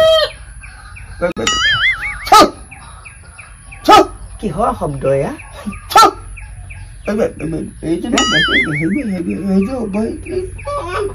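A hen clucks and calls in short rising bursts nearby, interleaved with several sharp clicks and a person speaking briefly.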